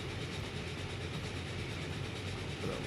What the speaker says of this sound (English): We are going to take a train ride